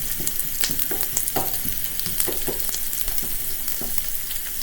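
Noodles and cabbage fry in a pan, an even loud sizzle with intermittent scraping and tapping of a utensil as the mixture is stirred, no voices.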